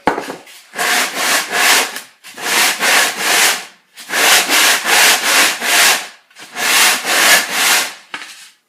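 A block of MDF faced with coarse 60-grit sandpaper scrubs across wood in four loud, close bursts of rapid back-and-forth strokes, each a rough rasping hiss, separated by brief pauses, with no voices.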